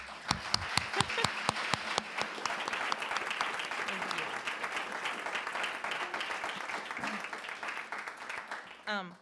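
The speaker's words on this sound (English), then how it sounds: "So a round of applause, everybody." Applause from attendees at a chamber of commerce congressional luncheon, opening with a few sharp individual claps and swelling into sustained, moderately distant clapping from a crowd, then tapering off near the end.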